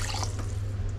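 Water pours briefly into a pan holding black pepper, curry leaves and cumin for juice, a short, close, steady splashing stream over a low background hum.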